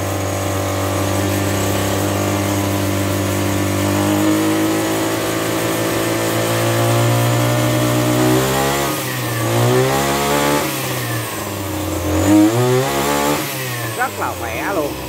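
A Maruyama BIGM BCS32 32cc backpack brush cutter engine runs loud and close, idling steadily before being revved up and down repeatedly in rising and falling sweeps, with someone talking over it.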